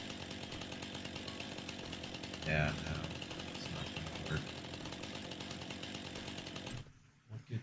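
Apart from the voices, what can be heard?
chainsaw in Farming Simulator video game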